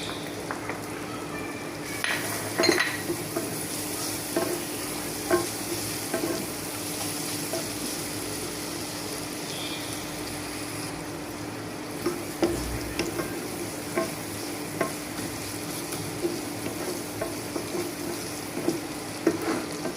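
Chopped green chili and garlic fry in a pan for masoor dal bhorta, a continuous low sizzle with intermittent scrapes and light clinks of a utensil stirring, close and steady with no talk.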